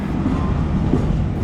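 Loud, steady rumble of a train at Lahore station near the Allama Iqbal Express on a platform, a continuous low mechanical roar with no talking.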